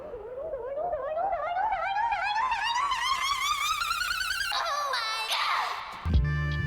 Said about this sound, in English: Throw in those samples, but you make sure that they're pitched up